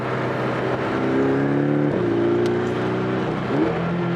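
A 2018 Porsche Boxster GTS engine revs under acceleration, a loud continuous drone that climbs in pitch, drops briefly as if shifting, then climbs again, with no talk.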